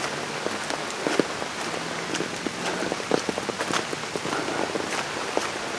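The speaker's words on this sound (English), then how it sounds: "and now it's raining again." Rain falling on a muddy hiking trail with standing water, a steady dense patter of drops striking the ground and surroundings, close and continuous, with faint footsteps mixed in.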